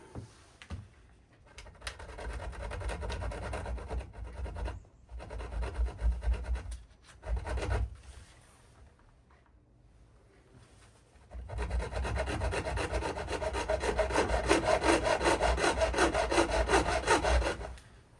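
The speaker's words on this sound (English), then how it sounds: "First I'll try my hacksaw." A hacksaw cuts through a plastic shower cover from a MAAX Cyrene corner shower kit. Repeated rasping strokes come close and loud in several bursts, with pauses between them and a long steady run of sawing at the end.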